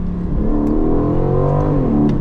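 An Aston Martin Vantage engine revs hard under acceleration, its pitch climbing and then dropping quickly with each smooth, instantaneous ZF 8-speed automatic gear change, loud and close.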